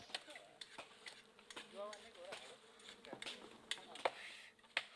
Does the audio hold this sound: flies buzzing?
yes